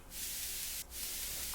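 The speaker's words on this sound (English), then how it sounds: "there's just a white noise channel" A white noise synth channel from a music track plays as a bright, steady hiss, with a brief dip partway through before it continues evenly.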